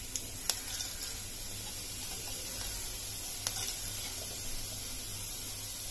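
Cumin and fennel seeds sizzle steadily in a spoonful of hot oil in a pan, a constant close frying hiss with a couple of sharp pops, no talking.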